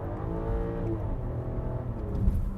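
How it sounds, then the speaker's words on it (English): A 2024 BMW X5 engine rises in a rev on a downshift, a steady, close mechanical drone that swells slightly near the end, heard without speech. "One downshift."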